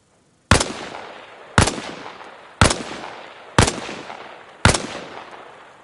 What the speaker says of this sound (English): Try again. Only this time, fire from a kneeling position.